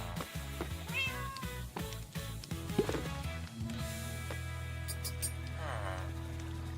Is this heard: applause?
no